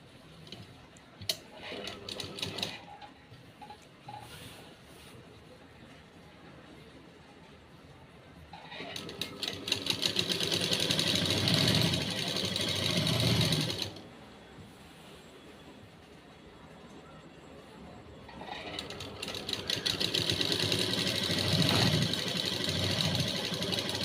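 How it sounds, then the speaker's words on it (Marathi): Sewing machine stitching a pocket onto a maxi dress, with two long bursts of steady mechanical whirring and clatter rising over quieter handling sounds, close by and without speech. "असं शिलाई मारून घ्यायची, ही पूर्ण दाब शिलाई मारून"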